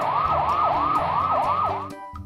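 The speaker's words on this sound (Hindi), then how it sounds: "पुलिस सायरन बजाते हुए जीप में वहां पहुंचते हैं।" A police siren on a jeep wails in fast repeated up-and-down sweeps, loud and close over a low engine rumble, stopping abruptly near the end.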